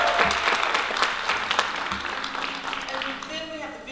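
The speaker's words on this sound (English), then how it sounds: "Please give a clap to Elegant Touch Ballroom." Applause for a wedding and event ballroom venue at a live showcase event, a steady wash of clapping from an audience with some talk or voices mixed in underneath, fairly loud throughout.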